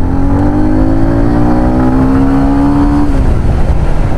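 TVS Ronin 225 motorcycle (2023 BS6) engine revving hard and steadily climbing toward the rev limiter, loud and close with rising harmonic whine, then dropping off near the end; no talking.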